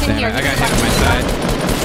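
Video game gunfire rattling constantly behind loud voices, dense rapid shots mixed with battle noise throughout.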